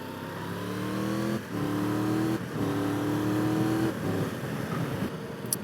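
A Triumph Tiger 1200 Rally motorcycle pulling away on a road through Germany's Black Forest, its engine climbing through several gear changes with brief dips between rising pitches, steady and close under wind noise.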